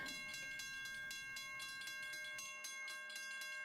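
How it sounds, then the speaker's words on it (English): An Italian railroad crossing fitted with US equipment rings its warning bells in a fast, even rhythm, with steady tonal chimes and no voices. "Italian railroad crossing with US equipment."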